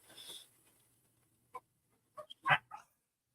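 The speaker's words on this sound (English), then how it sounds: "That's a dog." A dog barks outdoors in a few short, sharp yaps near the end, fairly faint and spaced apart after a brief muffled noise at the start.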